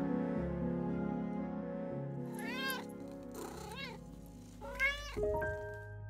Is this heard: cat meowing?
yes